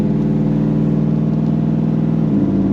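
A car with a 3,600 stall converter, large transmission cooler and stock 60E transmission pulls hard in second gear, a loud, close, steady engine drone with a throbbing low rumble and a slight shift in pitch near the end.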